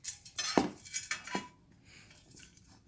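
A metal canteen's chain and cap being taken off, with several close, bright metallic clinks and rattles in quick succession before the handling quiets down.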